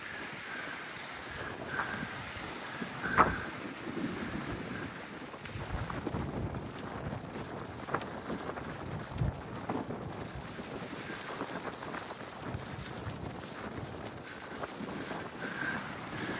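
Wind blows steadily across open ground on French Island, a constant rushing buffet with gusty swells and one brief sharp knock partway through, no voices.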